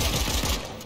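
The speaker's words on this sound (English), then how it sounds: "How did I miss that pump shot?" A pump shotgun fires in the video game Fortnite, a loud close blast with a quick rattling burst that decays within a second.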